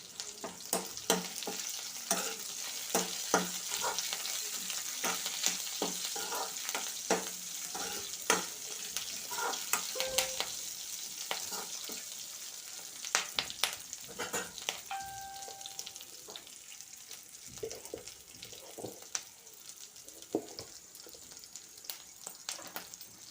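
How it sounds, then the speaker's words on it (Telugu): Coriander seeds, tamarind, green chillies and plenty of curry leaves frying in a pan, a continuous soft sizzle broken by frequent scraping and clinking stirs, close and without talk. "ఇవన్నీ కూడా బాగా వేగేటట్లుగా మంచిగా వేపుకోవాలి."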